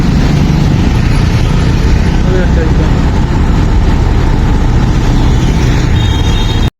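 A bus engine running and pulling away, a loud continuous low rumble with steady engine drone close to the microphone throughout.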